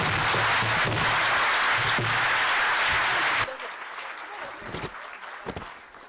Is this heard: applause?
yes